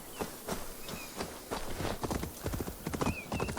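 Horse hooves clip-clop steadily in Assassin's Creed Valhalla, a rapid run of close, crisp hoofbeats with a short whinny and faint whistling calls mixed in.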